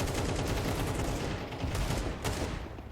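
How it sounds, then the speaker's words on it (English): Gunfire in a Counter-Strike match: dense overlapping shots and bursts run steadily for about three seconds at moderate distance, with no voices over them. "And out come the guns"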